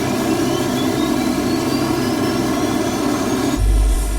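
Lockheed Electra aircraft engines running on the tarmac, a loud, steady droning roar with a rising whine, swelling into a deeper rumble at the end.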